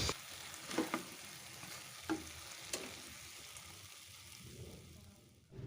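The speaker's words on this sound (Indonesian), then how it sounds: "Terakhir masukkan daun bawang, kemudian aduk-aduk sebentar aja, kemudian matikan kompor" Meatball cap cay sizzling in a pan with spring onions as a spatula stirs it, a steady frying hiss broken by a few sharp scraping clacks, no voices.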